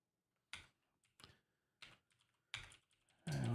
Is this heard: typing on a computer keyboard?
yes